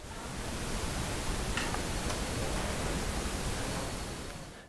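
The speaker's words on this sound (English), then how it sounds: "White noise sounds to mask other people's noises." Steady hiss of broadband noise, even and featureless, fading in and out over a few seconds at a soft level.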